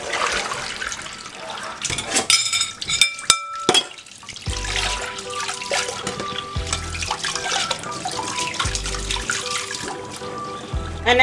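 Peeled yam being washed under running water at a sink, a steady splashing flow with scattered clinks and knocks, loud and close.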